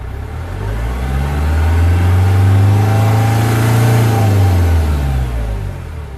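A 2003 Kia Sedona 2.9 CRDI diesel engine, diagnosed for camshaft sensor faults, revs up steadily from idle, its deep drone rising and holding high for several seconds before easing back down, loud and close with no voices.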